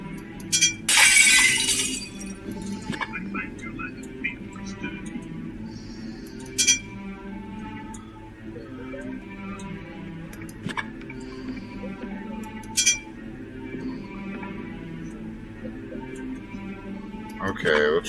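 Mirrors shattering in the Shadowgate video game, a bright burst of breaking glass near the start followed by a few sharper clinks over a steady game music bed.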